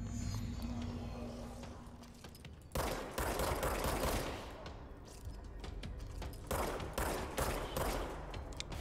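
Sniper gunfire in the action video game Control: a burst of sharp shots breaks out about three seconds in, followed by repeated volleys of gunfire against a rumbling game backdrop.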